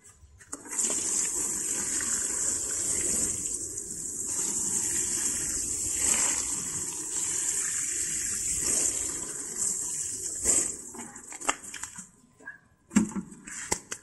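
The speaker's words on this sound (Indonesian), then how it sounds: "tinggal kita siram basah" Water pouring into a styrofoam box of kangkung as it is watered, a strong steady gush that runs for about ten seconds before breaking into a few splashes and drips.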